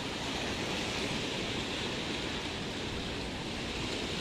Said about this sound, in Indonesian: Ini berhubung angin kencang ya terus, sehingga ombak besar di perairan pantai.